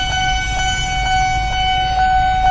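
An Indonesian KRL commuter train rumbles past nearby with a steady low roar, a sustained tonal horn-like note riding over it, and faint rhythmic clicks from the rails.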